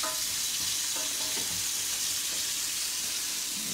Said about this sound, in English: you can see we're just frying the onion.